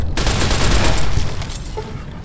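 Rapid bursts of automatic gunfire rattle loud and dense in the video game Fallout: New Vegas, with overlapping shots forming a continuous fusillade that eases slightly toward the end.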